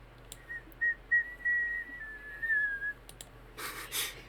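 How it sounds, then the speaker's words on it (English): Two people whistle together, a sustained, wavering tune lasting a few seconds with short breaks, fairly close and clear in a quiet room, followed by a brief burst of rustling noise. "Why did both of us whistle?"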